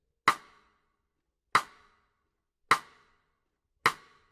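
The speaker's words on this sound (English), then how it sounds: "One of the most common ways that jazz drummers use the snare drum is with a cross stick sound," Four crisp, woody clicks of a jazz snare drum played cross stick, evenly spaced about a second apart, each with a short ringing decay, alone and close.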